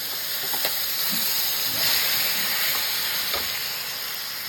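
Steady, loud sizzling of green ground pumpkin-leaf paste frying in hot oil, a continuous crackling hiss throughout with no voices.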